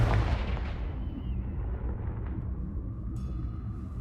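A Confringo fire spell in Hogwarts Legacy bursts with a booming explosive blast at the start, then a rumbling decay fades out, followed by a faint magical shimmer near the end.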